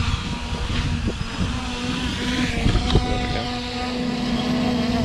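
A small drone motor on an NXP HoverGames quadcopter whirs steadily with a humming tone and a rough, labored edge, recorded close in a breezy outdoor setting.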